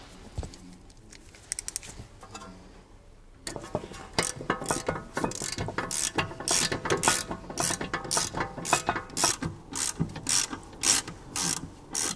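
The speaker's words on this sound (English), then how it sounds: "we're going to tighten up these two carrier bolts" Torque wrench ratcheting as the two rear brake carrier bolts on a Jaguar XF are tightened to 103 Newton meters, with quiet handling at first and then a loud, close, rhythmic series of clicking strokes, with no talking.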